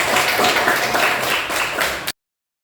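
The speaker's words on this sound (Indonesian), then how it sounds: "Tepuk tangan untuk Risa." A classroom of students applauds a classmate, a lively burst of many hands clapping close by for about two seconds before cutting off abruptly.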